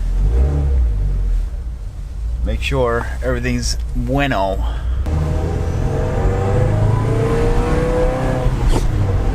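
A 2015 Subaru WRX running on stock mufflers pulls away and drives around the block, its engine a low, fairly subdued rumble that rises as it accelerates, with someone speaking briefly from inside the cabin.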